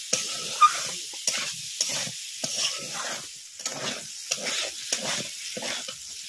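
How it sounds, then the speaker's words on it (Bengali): Potatoes frying in a pan with salt, turmeric and spices, stirred steadily so the sizzle rises and falls with repeated scraping strokes, close and alone. "এবারে দিয়ে দিচ্ছি পরিমাণ মতো লবণ, হলুদ গুঁড়ো, আলুটা ভালো করে মশলার সাথে কষিয়ে নেব।"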